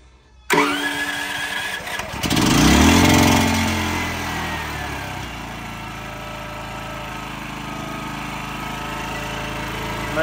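A conventional generator cranks and catches after a short silence, surging loudly as it starts, then settles into a steady, droning engine hum close by.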